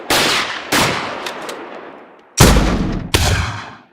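Field-recorded weapon gunfire captured outdoors, four loud separate shots, each a sharp crack followed by a long echoing decay, close and heard alone.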